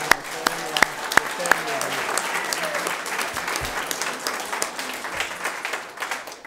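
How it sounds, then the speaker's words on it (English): Audience applause fills a school board meeting of the Waco ISD board of trustees, a steady, dense round of clapping with a few sharper claps standing out early, sustained at moderate loudness throughout. "Now you can applaud."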